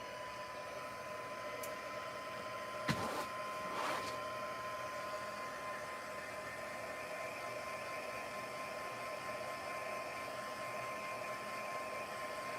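A heat embossing tool blows steadily on a handmade shabby chic card, a constant airy whir with a hum that runs throughout, broken once by a brief click.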